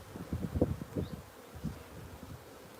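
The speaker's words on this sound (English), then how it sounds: "Nice lot of bees on that, which I expect." Honeybees swarm over a hive frame during queen-cell work, a low buzzing hum close to the ear, swelling in a few short bursts before settling into a softer drone.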